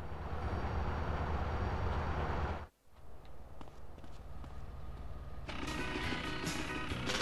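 A train in the video game GTA San Andreas rumbles past with a dense, steady roar and clattering wheels, cutting out briefly then returning with rhythmic rail thumps and a brighter hiss, loud and continuous.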